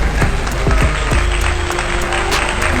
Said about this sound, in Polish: Należą wam się oklaski.